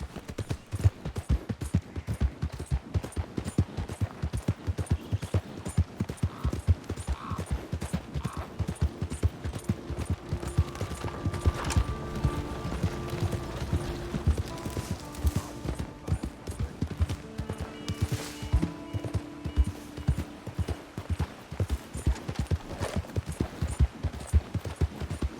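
Horse hooves clip-clop at a steady, brisk rhythm on a road in Red Dead Redemption 2, continuous and close throughout, with faint game tones and occasional soft voices underneath.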